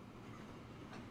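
A freight train hauling coal rolls away in Transport Fever 2, a faint, steady rumble of wheels and wagons heard at a distance without talk.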